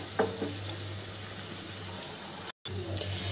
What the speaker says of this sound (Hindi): प्याज इससे क्रिस्पी और जल्दी तलकर तैयार हो जाएंगे और बिल्कुल एक जैसा फ्राई होगा।